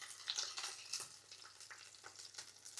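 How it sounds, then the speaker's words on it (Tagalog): Pork pieces frying in hot oil in a pan, a close, bright crackling sizzle with sharp pops and spits that ease off and flare again as meat is added piece by piece. "Paglapit na tayo patapos mag-prito isa-isa ng karne."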